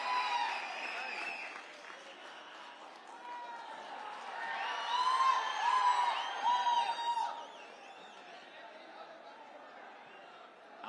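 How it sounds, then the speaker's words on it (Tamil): Hall-filling audience applause at a crowded Vijay (TVK) stage event in Salem swells in the middle with cheering and scattered whistles, then settles back to a steady clapping murmur, with voices mixed in throughout. "அரங்கம் நிறைந்த கைத்தட்டல்."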